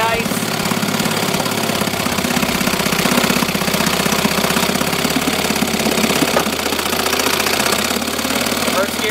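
A 1963 Evinrude Fisherman 5.5 outboard motor runs close by, a loud continuous knocking rattle with steady rapid pulsing that holds for the full stretch.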